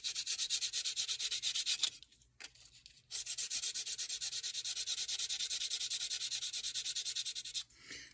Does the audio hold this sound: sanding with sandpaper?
yes